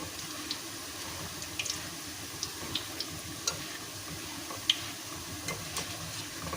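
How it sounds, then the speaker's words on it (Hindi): Crisp fried besan boondi rattle in a pan as they are stirred, giving scattered light clicks and taps over a faint sizzling hiss. "इनकी खनखनाहट से आपको पता चल जाएगा कि आया ये क्रिस्पी हो चुकी हैं या नहीं"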